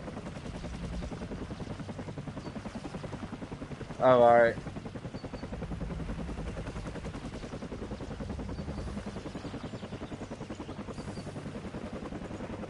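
Rhythmic video game helicopter rotor chopping thumps steadily throughout, with a brief exclaiming voice partway through.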